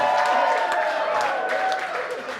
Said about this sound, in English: Round of applause again for the beautiful couple